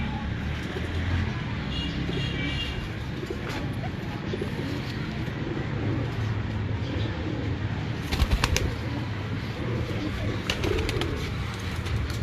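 Breeder pigeons coo steadily in a loft, soft repeated throaty calls overlapping one another at close range, with brief wing flutters and faint voices in the background.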